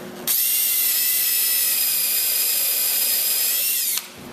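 A power drill drives temporary fasteners into new bottom frames of a 1946 Chris Craft Brightside U22 boat, one loud, steady whir lasting close to four seconds, starting and stopping sharply with no talking.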